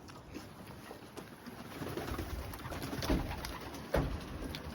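Racing pigeons coo softly in a breeding loft, with low murmuring calls and occasional wing flutters mixed into steady close ambience, and no one speaks.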